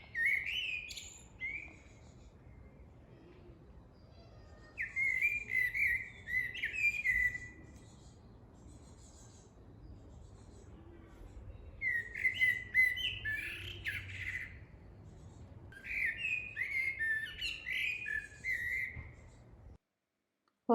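A blackbird sings in a garden in clear, fluting phrases that come in three bursts separated by pauses. Each burst is fairly close and bright over faint background hush, with no talking.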